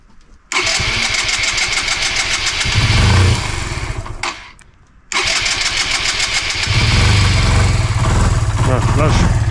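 A Suzuki Van Van 125 motorcycle, left unused for years, is started with the choke on. Its engine catches and runs loud and close, then cuts out briefly before restarting and revving unevenly.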